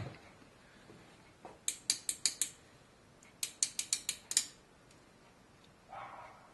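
Ratchet clicking as it tightens a small bolt on a Harley-Davidson engine head during a compression release install: two quick bursts of sharp close ratcheting strokes, about five clicks each, with a faint shuffle at the end.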